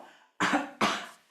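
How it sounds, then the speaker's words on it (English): Two sharp, close coughs in quick succession, with a brief breathy sound before them. "So just cough"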